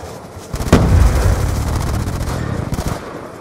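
A loud blast in Black Ops 2, a sticky grenade going off with a heavy boom followed by a rumbling tail and scattered gunshots nearby.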